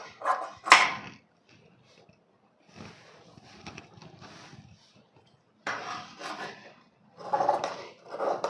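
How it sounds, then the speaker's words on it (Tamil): Scissors cut the front piece of a blouse fabric, close rasping snips in short bursts separated by pauses, with soft handling rustle between them. "ஸோ முன் பீஸை வந்து நான் கட் பண்ணிக்கிறேன்."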